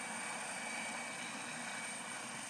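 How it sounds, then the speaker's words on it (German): An emergency helicopter lands at the Leukerbad ski area, its rotor and engine roar a steady, loud, continuous drone with no talking. "Der Notfallhelikopter landet im Skigebiet von Leukerbad."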